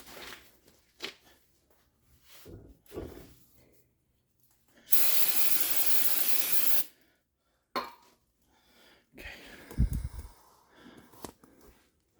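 Lubricant sprays onto brake caliper pins during a 2007 Ford Focus front brake replacement in a single steady hiss of about two seconds, set between scattered knocks and clatter of parts being handled.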